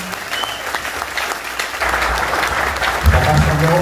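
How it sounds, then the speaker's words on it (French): A church congregation claps steadily, the applause swelling louder midway as a voice and music come in underneath. "Merci pour l'applaudissement de l'évangile."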